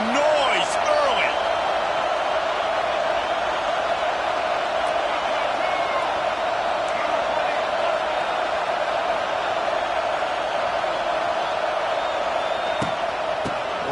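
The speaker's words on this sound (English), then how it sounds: "This crowd bringing the energy and noise early." A college football stadium crowd roars and cheers in a Texas A&M versus South Carolina dynasty game, a broad sustained wash of noise with a few whoops, heard under a commentator's voice.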